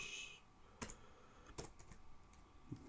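Typing on a computer keyboard while writing Java code: a few sparse, sharp key clicks spaced through a quiet stretch, close and clear, with no talk over them.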